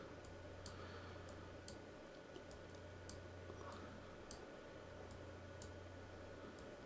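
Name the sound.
mouse clicking while dragging action cards in LackeyCCG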